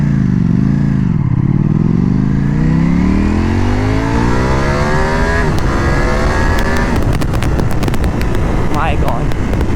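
A Ducati Panigale V4 in sport mode launches hard, its engine note climbing rapidly through rising revs amid heavy wind rush, loud and close, with a voice speaking over the roar toward the end.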